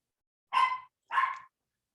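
Two sharp barks sound close by in a quiet room, evenly spaced about half a second apart, with silence before and after.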